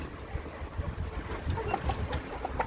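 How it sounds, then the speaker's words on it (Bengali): Large Fayoumi chickens on a farm cluck softly nearby amid a busy background murmur, with a few short clucks and calls scattered through. "এই যে আমার ফার্মের বড় মুরগিটা আপনারা দেখতে পাচ্ছেন"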